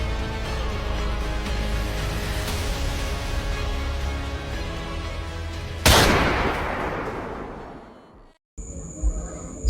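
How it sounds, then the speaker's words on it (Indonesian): A gunshot sound effect in a West Sumatran folk tale drama: a sharp blast cracks over a loud, dense rumbling background, followed by a decaying echo, a brief gap of silence and a faint tone. "Sebuah tembakan dilepaskan mengenai Raja Babanding hingga ia roboh tak bernyawa"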